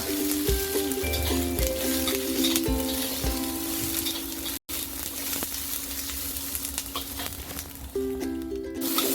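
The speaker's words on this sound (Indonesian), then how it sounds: "Sekarang aku panaskan wajan dan aku masukkan paprikanya dulu. Jadi ini ditumis sebentar aja ya." Bell peppers sizzle and hiss steadily in a hot wok, with occasional scraping and stirring knocks, close up and continuous.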